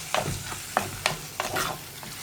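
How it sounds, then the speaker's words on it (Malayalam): A spoon stirs curd curry in a pan over a low flame, giving about six distinct scraping strokes in a loose rhythm, close and clear, with a soft sizzle underneath and no speech. "നന്നായിട്ടൊന്ന് ഇളക്കി കൊടുക്കുക."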